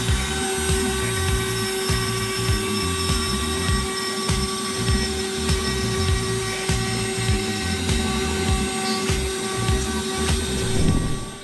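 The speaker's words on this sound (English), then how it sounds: "This fully automated CNC lathe efficiently processes works with precision, enhancing productivity and ensuring consistent quality." An automated CNC lathe turning wood gives a loud, continuous high whine and drone with a steady tonal hum, running unbroken throughout with no voices.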